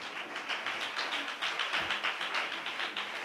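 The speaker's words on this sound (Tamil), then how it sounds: "நல்ல கைத்தட்டி ஆண்டவருக்கு நன்றி சார்." Many hands clap together from a church congregation during a Tamil Christian sermon, a dense, steady patter of applause that carries on evenly without any speech.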